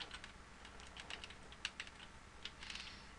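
Fingers type a username on a computer keyboard, a quiet, close run of light, irregular key clicks lasting a few seconds, alone without speech.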